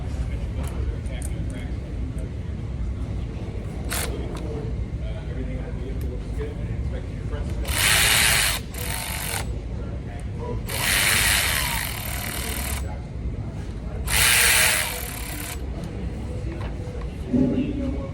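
Hand tools work on the bolts of an Audi DSG transmission, giving a steady mechanical rattle with several short bursts of rapid ratcheting, close by.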